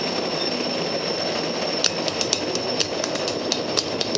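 The Switchback Special ride train rumbling past close by, with a steady roar and regular clickety-clack of wheels over rail joints, and a faint metallic squeal.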